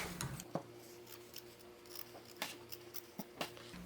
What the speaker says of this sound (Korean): 요 가위로 잘라줄 거예요